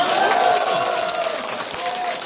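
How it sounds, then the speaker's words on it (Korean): Applause from an audience at a book concert event, a steady broadband clatter of many hands filling the room, fairly loud and continuous with a crowd murmur underneath. "박수 한번 보내주세요"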